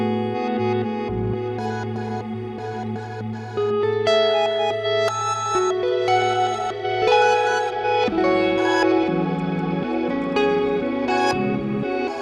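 Electric guitar played through a Line 6 DL4 reverb with the octave effect turned up, a sustained, layered chordal passage with shimmering upper octaves and a long washy tail, steady and loud throughout with no talking.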